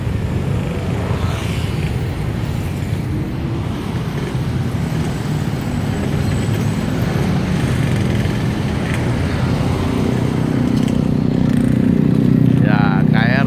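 An Argo Parahyangan express and a KRD Bandung Raya local train run side by side, giving a steady low rumble that swells louder toward the end.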